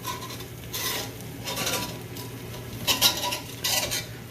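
A metal utensil scrapes and clinks against a non-stick skillet, prying a kitchen sink frittata loose from the pan in several short scraping bursts, close and moderately loud, with no talk.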